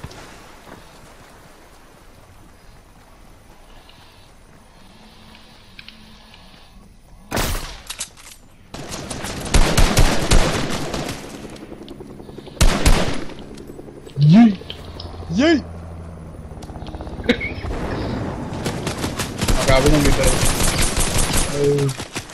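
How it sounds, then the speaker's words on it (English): Gunfire in a Fortnite duos match comes in sharp bursts and short rattling volleys, some near and loud, others more scattered. Brief excited voice sounds are heard in between. "Oh, I'm getting shot at."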